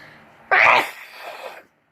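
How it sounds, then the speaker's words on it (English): A single sharp sneeze bursts out close by, loud at first and trailing off into a softer breathy tail before quiet. "I feel a sneeze coming"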